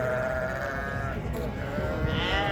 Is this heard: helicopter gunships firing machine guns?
no